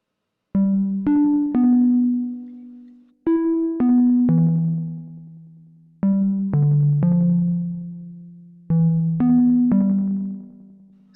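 A synthesizer plays an improvised melody built from chord tones, in four short phrases of plucked, bright notes with slow decays and gaps of silence between.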